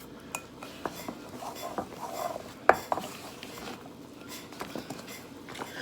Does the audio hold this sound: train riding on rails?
no